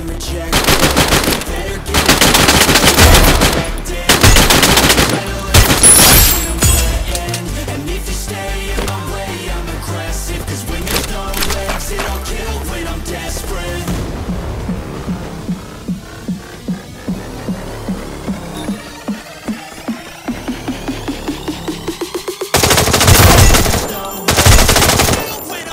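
M29 and MP40 guns fire in a battle royale shooter game, with loud rapid automatic bursts at the start, a long run of evenly spaced single shots through the middle, and another heavy burst near the end.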